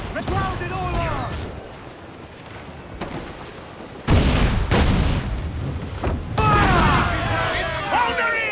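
Sailing-ship cannons in Assassin's Creed IV: Black Flag boom in heavy bursts amid crashing impacts and rumbling, with crew voices shouting over the battle.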